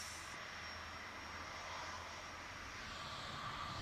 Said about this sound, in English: EasyJet rotates.